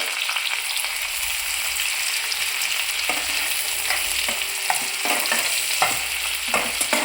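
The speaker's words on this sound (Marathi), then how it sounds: "आता कांदा चांगला हलवून घ्यायचा आहे, आपल्याला याला थोडं ब्राऊन होऊ द्यायचं आहे" Onion with curry leaves frying and being stirred in a pan, a dense, loud, continuous sizzle with scattered spatula knocks and scrapes in the latter half, close and without voices.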